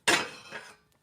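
Metal cooking pans set down in a kitchen, one sharp clinking clatter followed by a softer second clink that rings briefly and dies away.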